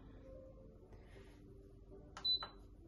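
An Instant Pot beeps when switched to saute, one short bright electronic beep near the end of a very quiet stretch, with faint kitchen hum and no speech.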